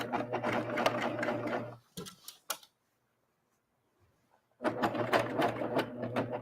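Serger sewing machine stitching a seam on an upcycling project, running in a loud rapid mechanical whir, stopping briefly with a few clicks, then a few seconds of silence before the motor starts again.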